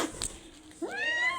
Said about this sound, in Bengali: তুমি শুধু ম্যাও করতেছো।